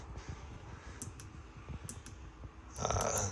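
Clicks of buttons on the control panel of a 2022 Jayco Eagle 330RSTS travel trailer's leveling system, a few sharp close taps spaced apart over low background hum, ending in a steadier brighter buzzing.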